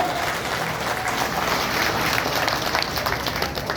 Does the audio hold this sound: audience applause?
yes